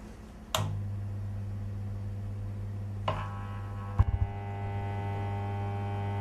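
A laboratory electromagnet with an iron core switches on with a click, then hums steadily and evenly. The buzzing tone stays close and constant, and a few sharp metallic taps sound partway through.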